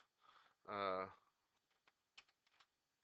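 Light keystrokes on a computer keyboard, a few sparse faint taps following a short burst of speech, quiet and close.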